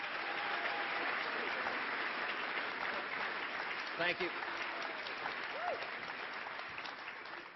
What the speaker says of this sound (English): Ladies and gentlemen, please give a round of applause to Dr.